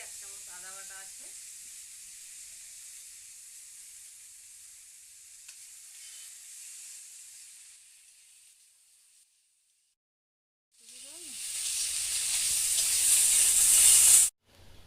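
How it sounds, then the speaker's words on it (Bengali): Ginger paste sizzles as it hits hot oil in a frying pan, a loud bright hiss that swells sharply near the end after a quieter stretch of fainter frying. "এবং এবার আমি আদা বাটাটাকে অ্যাড করছি।"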